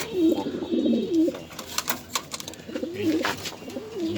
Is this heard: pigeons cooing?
yes